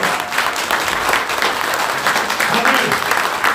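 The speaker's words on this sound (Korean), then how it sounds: "박수 한번 보내주세요" Audience clapping at the opening of a Gyeyang district head candidate's campaign office, a sustained burst of close, dense applause with some crowd voices mixed in.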